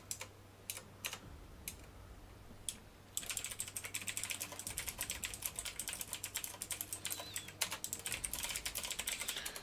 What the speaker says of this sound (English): Sorry for the typing, guys.